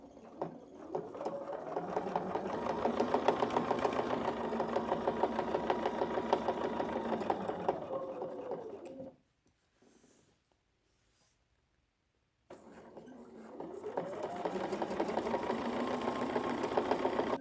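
Sewing machine stitching along a quilted line, with a fast, steady whirring patter up close. The machine stops for about three seconds of near-silence, then starts stitching again.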